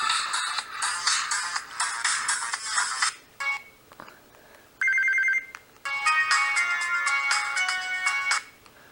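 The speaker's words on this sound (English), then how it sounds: "Tunes and tones. My ringtones." Ringtones on a newer Samsung flip phone play in turn: bright busy melodic tunes, a short sustained electronic tone, then another lively jingle, loud and close with brief gaps between.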